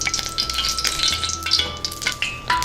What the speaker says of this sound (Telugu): పోపుకి సరిపడా నూనె వేసుకుందాం